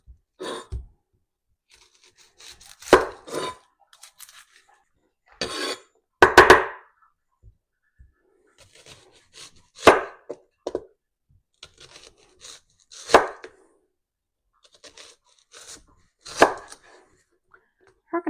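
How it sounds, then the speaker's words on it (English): Knife chopping an onion on a cutting board in a home kitchen, a series of sharp, fairly loud cuts in irregular bursts, some single chops and some quick clusters, with quiet pauses between them. "Now we're going to cut up a little onion to throw in there."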